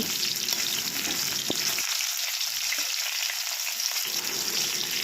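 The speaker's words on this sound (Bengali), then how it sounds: "ধুন্দুলের জন্য পেঁয়াজটা বসিয়ে দেওয়া হলো পেঁয়াজটা লাল হয়ে যাক" Onions frying in oil in a pan before sponge gourd is added, a dense continuous sizzle close by, with the low crackle briefly thinning in the middle.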